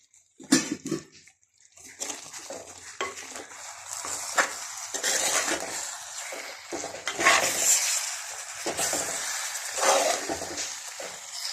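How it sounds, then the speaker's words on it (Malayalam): Chicken roast stirred in a pan: wet sizzling and scraping spatula strokes come in uneven bursts over a soft background hiss, moderately close, with a sharp clatter near the start and no voices. "അപ്പോൾ നമുക്ക് ഇളക്കി കൊടുക്കാം കേട്ടോ."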